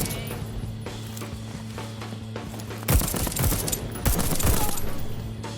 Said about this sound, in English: Again, shooting is very satisfying.